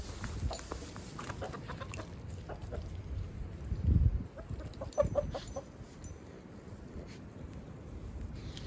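Chickens on a farm clucking softly at close range amid a busy background of scratching and rustling, with a few louder bursts midway.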